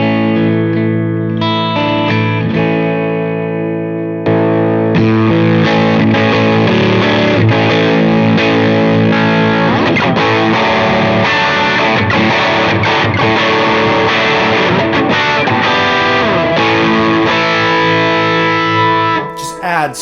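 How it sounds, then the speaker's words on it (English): Distorted electric guitar chords through a Fender amp ring out with heavy delay and reverb, sustained and dense, the repeats smearing into a continuous wash that cuts off abruptly at the end. "just going through the Fender once again. And I got my delay and reverb on."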